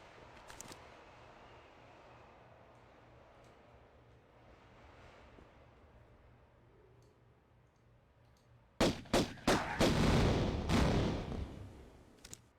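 Explosions in Tomb Raider arrive as a cluster of sharp, loud bursts near the end, following a long stretch of quiet low rumble and faint clicks.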